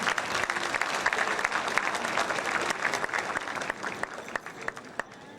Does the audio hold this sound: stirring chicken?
no